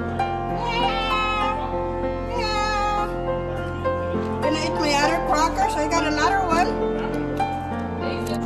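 Peacocks calling at a resort, loud wailing cries repeated over a constant droning background, with people talking nearby.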